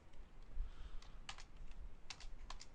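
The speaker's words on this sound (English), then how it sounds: "I can just now type in what I wanted to say." Typing on a computer keyboard while editing elements between angle brackets, heard as short bursts of clicky keystrokes with pauses between, fairly quiet and close, with no voices.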